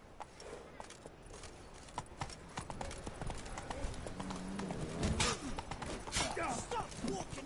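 Hooves clip-clop in quick, irregular steps from the horse Roach in the video game Witcher 3, with a faint voice and game sounds behind them.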